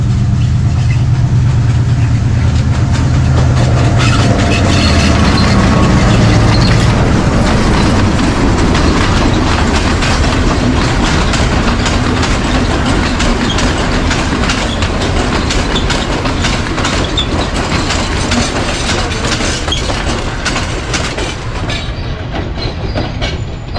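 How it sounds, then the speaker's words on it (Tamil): An old-era train coach in Nuwara Eliya, Sri Lanka, rumbles steadily along the rails, loud and close, with rhythmic wheel clatter and a low engine drone throughout. "இந்த ரயில் வந்து அந்த காலத்தில் ஓடின கோச்"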